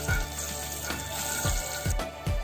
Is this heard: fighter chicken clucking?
no